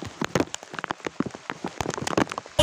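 Heavy rain falls in a dense patter of close, irregular drops hitting a hard surface, loud and continuous with no voices.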